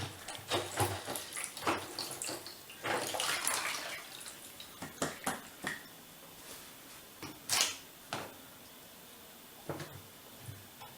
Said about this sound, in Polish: zacznę od pozbycia się wody, która zawsze tam jest. Po każdym praniu zostaje pewnie z litr wody.